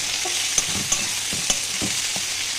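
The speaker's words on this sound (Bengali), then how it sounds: "এই দেখো মাছটা ভেজে নিচ্ছি" Catla fish frying in a pan gives a steady, close sizzle, broken by a few sharp clicks and scrapes from stirring, with no one talking.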